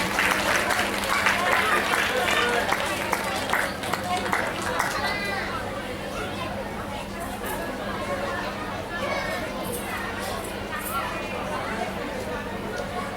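An audience applauds at an annual yoga programme on the stage of Rabindra Sadan in Baharampur, the clapping fairly loud at first and then thinning into crowd chatter and footsteps, with a voice speaking over it.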